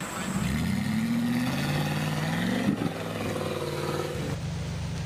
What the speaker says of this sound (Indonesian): ada mobil off-road teman-teman.